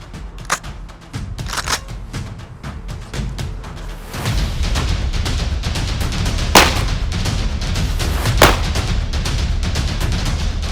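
Shotgun blasts from a Beretta 1301 Comp Pro on a range, a series of sharp, loud reports spaced a few seconds apart over a low background rumble.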